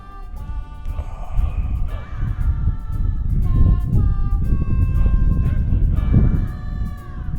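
Birds call and chirp steadily over a constant low rumble of wind at Montalegre's Hermitage, their tones rising and falling throughout.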